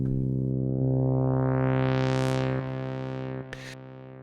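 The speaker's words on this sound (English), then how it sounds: "a fresh initialized Surge plugin sounds like this" A single sustained, buzzy note from the Surge XT synthesizer plugin's default initialized patch, with a bright, raw tone, its brightness sweeping up and then closing down, ending with a brief noisy burst.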